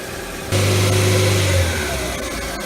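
A car engine, under test of its fuel injection system, rises from quiet to a steady, loud run held at about 2,000 RPM, a constant drone that eases slightly near the end, with no talking.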